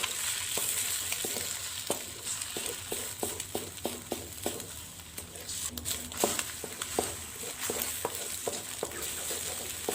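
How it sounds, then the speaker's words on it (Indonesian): Two eggs being scrambled in a frying pan over sautéed seasoning, with a continuous close sizzle and regular scraping and tapping of a spatula against the pan. "Kemudian telurnya ini akan saya orak-arik."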